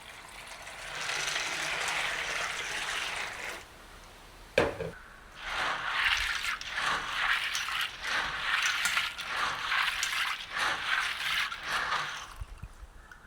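Chickpeas washed by hand in a bowl of water, giving a sloshing, rattling swish of wet legumes that pauses briefly, then resumes in uneven strokes close by.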